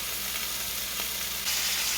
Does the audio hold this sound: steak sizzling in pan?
yes